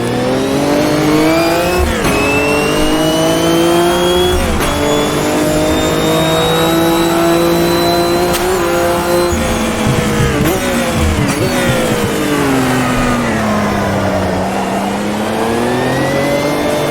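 A race car engine in the sim game Automobilista 2 drones loud and close, with the revs rising and falling as the throttle is feathered, short gearshift breaks, and a long swooping dip and climb in pitch near the end.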